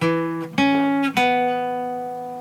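A few clear plucked guitar notes, each struck cleanly and left ringing, with bright sustained tones fading slowly. No voices.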